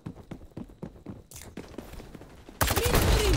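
Gunfire in the video game XDefiant, a run of quick, sharp shots with footsteps, ending in a loud burst of blasts up close.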